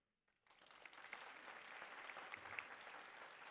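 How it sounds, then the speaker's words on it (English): Applause from an audience at a Native affinity celebration ceremony begins after a brief silence and builds into a steady, moderately distant wash of many hands clapping. "Please give a round of applause, as this event is a labor of love."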